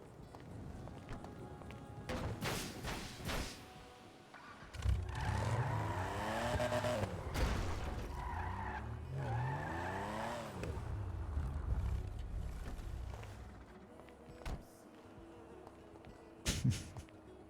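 A car drives and maneuvers in a video game, engine revving up and down in sweeping waves with tire squeals and skids, punctuated by sharp bangs and a lull near the end.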